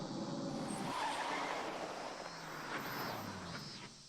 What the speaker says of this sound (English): Just then I heard loud engine sounds coming from outside the house.